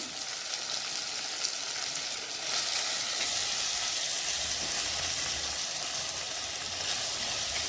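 Onions and tomatoes sautéing in a pan for a seer fish curry give off a steady, dense sizzle, close and continuous, swelling slightly partway through, with no one speaking.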